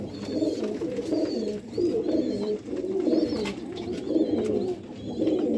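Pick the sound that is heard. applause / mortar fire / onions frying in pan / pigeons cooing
pigeons cooing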